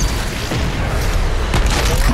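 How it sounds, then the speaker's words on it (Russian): Rocket explosion in the DOOM Eternal shooter, a loud, dense, continuous burst of booming noise with a sharper blast near the end. "наши ракеты нас взрывают"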